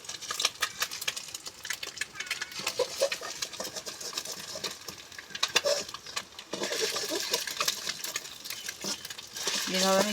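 Eggs and potatoes being stirred while frying in a pan for a soybean curry, with steady scraping and clinking of a utensil against the pan over a continuous frying hiss, growing busier toward the end.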